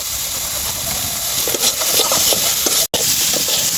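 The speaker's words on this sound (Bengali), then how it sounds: "মশলার সাথে বড়িগুলা ভালোভাবে কষিয়ে নিব।" Sun-dried lentil dumplings stir-fry in a paste of garlic, onion, cumin, coriander, dried chilli and turmeric for a fish curry, a loud continuous sizzle with spoon scrapes and a brief dropout near the end.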